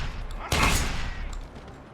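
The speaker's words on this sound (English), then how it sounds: "When in doubt, shotgun it out." A single loud shotgun blast from a Krogan character in the video game Mass Effect is followed by a rattling, decaying tail that fades over about a second. Faint game noise runs before and after the shot.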